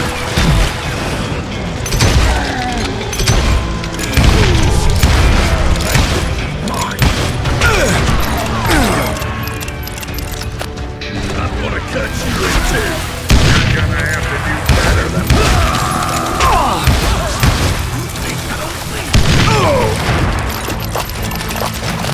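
Dense Wild West gunfight in Call of Juarez: Gunslinger, loud booming shots and blasts layered thickly over one another at close range, with voices shouting through the chaos.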